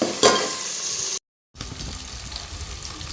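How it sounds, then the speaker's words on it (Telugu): Onions, green chillies and tomatoes fry in a pan over spiced oil, giving a steady close sizzle with a brief scrape near the start, a short cut to silence, then the sizzle resumes with light stirring noises. "మసాలా దినుసులు వేగిన తర్వాత ఉల్లిపాయలు, పచ్చిమిర్చి, టమాటా వేసి ఫ్రై చేస్తున్నాను అనమాట"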